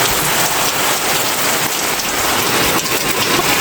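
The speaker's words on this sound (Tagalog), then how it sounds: "sobrang lakas ng ulan sa labas ngayon" Very heavy rain pours down outside during a storm, a dense, steady roar of drops hitting surfaces that stays loud and unbroken throughout, with no voices.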